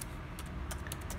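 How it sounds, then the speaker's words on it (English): Keys on a computer keyboard are tapped out in a short burst, a few crisp clicks standing out over steady background hiss while a company name is entered into accounting software. "I am typing Innovative, INNOVATI, Innovative."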